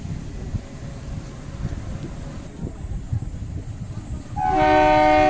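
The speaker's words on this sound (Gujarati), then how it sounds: "હોર્ન વાગી ગયો છે ગ્રીન ફ્લેગ દેખાડી દીધો છે ટ્રેન નીકળી ગઈ છે આપણી" A Junagadh–Sasan Gir–Delvada metre-gauge train gives a loud, sustained horn blast as it departs the station, rising sharply over the low rumble of the idling carriages near the end.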